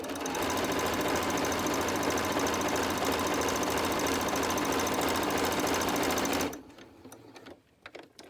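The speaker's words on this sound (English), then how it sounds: "So I'm going to sew this next corner to corner." Fast, steady mechanical whir of a sewing machine stitching a rag quilt square corner to corner, running loud and continuous before stopping abruptly, followed by a few faint handling clicks.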